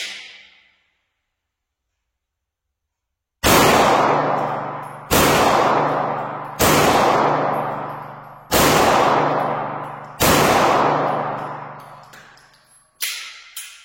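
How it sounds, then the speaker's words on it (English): Pistol shots fired at a target from a 13-round magazine: after a short silence, six sharp, loud, close reports ring out at roughly even intervals, each with a fading echo. "I have a 13 round mag here, by the way, but we'll go 5 shots."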